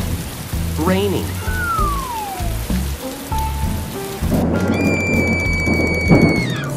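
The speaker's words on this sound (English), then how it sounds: "Raining." Steady rain hiss with scattered background sounds and a rising tone over low rumbling, continuous and fairly loud throughout.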